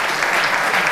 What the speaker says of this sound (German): bitte einen grossen Applaus